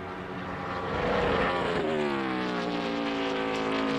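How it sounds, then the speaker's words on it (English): A race car's engine screams through a corner in 2003 qualifying, its high rising drone flattening into a sustained buzzing note as the rev limiter holds it, loud and continuous without speech. "you can hear the uh, rev limiter coming right there to keep him overdriving that corner"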